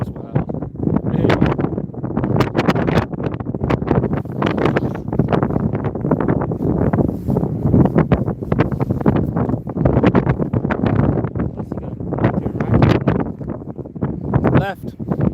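Strong wind buffets the microphone at Inverness Airport, a constant gusty roar and rustle running throughout while people talk over it.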